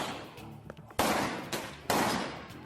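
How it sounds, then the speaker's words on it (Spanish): Loud gunshots ring out in a city neighbourhood in broad daylight, several sharp cracks with long echoing tails, two of them especially strong and close, over a noisy background. "Más de 10 tiros."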